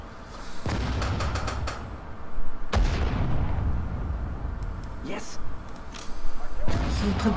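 Grenade and artillery blasts in the Sudden Strike 4 Allied campaign at the Rhine crossing: sharp booms with decaying rumbles and scattered gunfire, loud, while someone talks excitedly.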